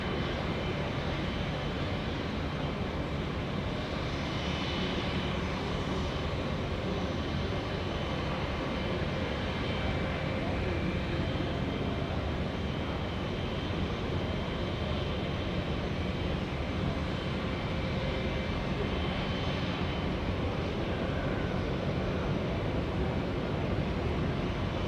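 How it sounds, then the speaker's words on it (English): A jet aircraft arriving at Auckland Airport produces a broad, steady engine roar that stays loud and unbroken across the whole stretch, heard from a spotting position outdoors. "I think we are actually waiting for these arriving aircraft to come in just a moment's time"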